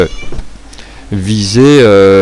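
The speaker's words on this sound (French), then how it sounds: "je sais pas si vous avez entendu mon chat qui est venu me miauler pendant la vidéo" A house cat lets out a loud, drawn-out meow close by, rising and falling in pitch, right after a person's muffled talking.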